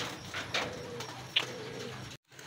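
Soft cooing from racing pigeons in a training loft in Tayug, Pangasinan, a few low murmured coos close by, with a brief cutoff near the end.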